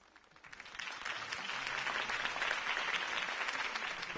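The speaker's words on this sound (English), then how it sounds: "could have heard that applause" A video game crowd on PS4 bursts into applause, rising quickly from quiet into steady, sustained clapping that holds without voices.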